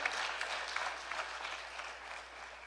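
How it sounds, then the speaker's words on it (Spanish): Steady applause from a church congregation fills the space, a dense wash of many hands clapping at an even level for a few seconds, with no voices over it. "los de atrás deben aplaudir también"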